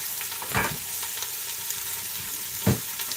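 Meat sears in a hot pan for rogan josh, a continuous bright sizzle punctuated by two louder stirring scrapes.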